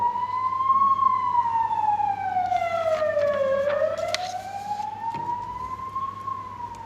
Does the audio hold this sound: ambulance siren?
yes